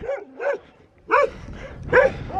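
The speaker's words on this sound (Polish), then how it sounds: "Jakiś pies na nas czeka tylko idzie w naszą stronę, więc trochę go gonimy." A stray dog on a hillside path above Quetzaltenango, Guatemala, barks nearby in three separate loud barks with pauses between them.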